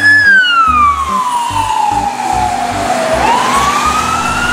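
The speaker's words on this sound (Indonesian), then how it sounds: "Ada mobil ambulan juga." A toy ambulance siren wails loud and close in a continuous rising-and-falling tone, with small clicks and rattles of toy vehicles underneath.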